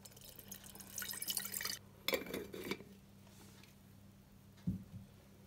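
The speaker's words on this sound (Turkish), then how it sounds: "Şimdi tekrardan süzüyorum." Water is strained from soaked sprouting lentils, a faint run of pouring and trickling splashes in short bursts with a small clink of a container, close and quiet, no talk.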